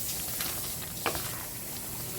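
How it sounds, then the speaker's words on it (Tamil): Kadhai paneer gravy with vegetables and paneer simmers in a pan, giving a soft, continuous sizzle and bubbling hiss with one faint stir click. "சேர்த்து ஒரு பிரட்டிட்டு இது ஒரு 2 நிமிஷத்துக்கு கொதிக்கட்டும்"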